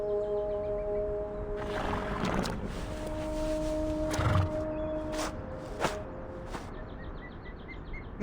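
A horse in the video game Reverse: 1999 gives a few whinnying neighs amid quiet game music, with faint hoof clops and a bright chime near the end.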